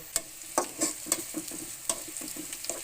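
Onions and whole cumin sizzling in oil in a pan with repeated scraping strokes of a spatula, a steady stirring rhythm, close by with no voices.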